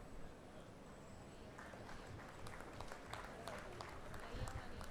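Faint, distant audience applause at a university convocation ceremony as degrees are handed out, a soft steady patter of many hands with a low murmur of voices beneath.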